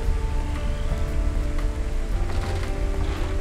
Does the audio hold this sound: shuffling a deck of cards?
no